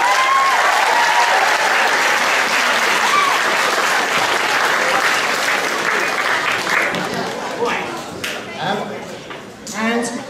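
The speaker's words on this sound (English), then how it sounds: "I think the first round of applause should go to the China band." A large school audience bursts into loud, sustained applause for a band at a house event, dense clapping that slowly thins and fades toward the end with a few scattered cheers and voices.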